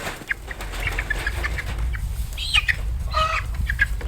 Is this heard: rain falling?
no